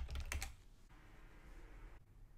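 Keystrokes on a computer keyboard as an Ember install command is typed, a quick burst of clicks in the first half-second followed by quiet room tone.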